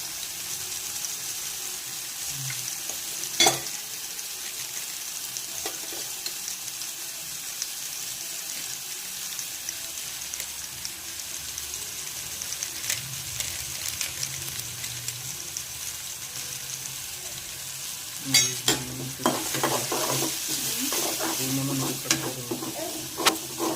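Eggplant fries in a pan with red chili powder, turmeric and masala, giving a constant soft sizzle with occasional sharp clacks and scrapes of stirring, busier toward the end.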